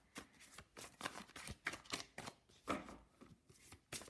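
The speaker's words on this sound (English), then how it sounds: "I'm gonna shuffle again." Tarot cards being shuffled by hand in a series of quick, crisp riffles and flicks, close and fairly quiet, with no talking.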